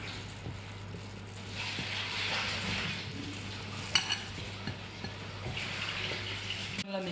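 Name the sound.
mixing pancake batter of flour, salt, sugar, baking soda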